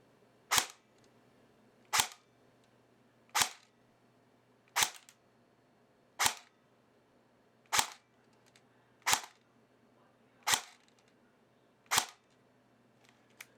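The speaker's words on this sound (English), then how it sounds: "This is 2 O's shooting semi." A Valken airsoft battle rifle firing on semi-automatic, ten crisp clicking shots spaced evenly about every one and a half seconds, close and clear with no talk.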